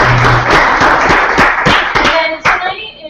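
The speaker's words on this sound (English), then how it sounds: "So give them a round of applause." Meetup audience applauding, a run of sharp, separate hand claps at close range with murmuring voices underneath, thinning out toward the end.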